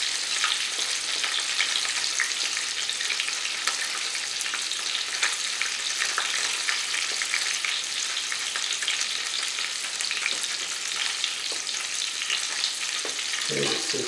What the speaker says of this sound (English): If it looks like it's frying a little bit too hard, just turn the heat down on it